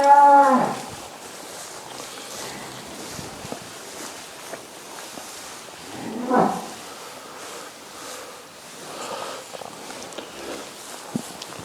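Cattle in a winter shed, young calves and heifers, give several moos, one near at the start and another mid-way, over a quiet background of shuffling and rustling, without talk.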